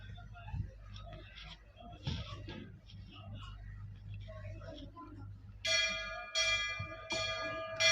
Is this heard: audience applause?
no